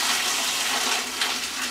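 Water gushes steadily from a hose or can while cucumbers are watered in a garden, a close, continuous splashing hiss with no voices.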